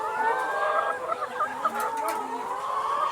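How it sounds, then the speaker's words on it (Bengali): Sick chickens on a farm cluck and murmur close by, a continuous run of overlapping soft calls with a few sharper squawks, no voices. "এই মুরগিটাই অসুস্থ ছিল এই মুরগিটা অসুস্থ ছিল এবং এই মুরগিটা এখনও"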